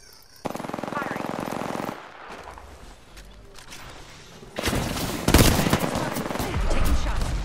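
Rapid automatic gunfire from an Apex Legends match, loud sustained bursts of shots with a pause, then heavier overlapping fire and impacts building toward the end.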